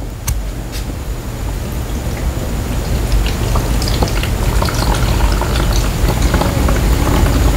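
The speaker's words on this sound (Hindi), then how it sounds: "पहले जब आप फर्स्ट टाइम इसमें वाटर डालेंगे तो इसमें आप हाथ से पानी डाल सकते हैं किसी भी जग वगैरह से" Water poured by hand from a jug into the tray of an egg incubator makes a steady, loud splashing and trickling that runs continuously for several seconds, close by and with no talking over it.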